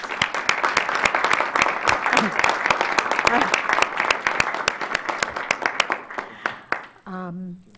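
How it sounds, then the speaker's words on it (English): Applause for newly sworn commissioners and board members at a council meeting, sharp individual claps from a modest room of people, thinning out near the end before a short spoken remark. "Can we give them a round of applause?"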